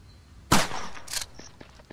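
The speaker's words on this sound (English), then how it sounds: "I hear shots, I don't know where they are." Gunfire in a combat video game: a single loud, sharp shot bursts out near the start, followed by a couple of fainter cracks and small clicks, with no talking.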